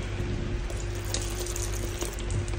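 Milk poured into a bowl of flour mixture for banana pancakes, giving a steady, close liquid pouring and splashing sound that runs continuously without a break.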